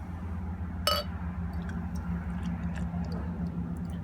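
Bottle-conditioned beer pours into a glass, a soft, steady fizzing wash with a sharp glassy clink near the start and scattered small ticks over a constant low hum.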